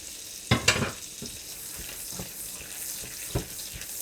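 Capers and parsley frying in very hot butter over medium heat for a cabbage dish, a soft steady hiss broken by a few sharp pops and clatters near the start and scattered quieter knocks afterward.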